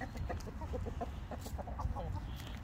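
Chickens cluck softly in short, scattered bursts in a garden, with a cockerel among them, over a low outdoor rumble.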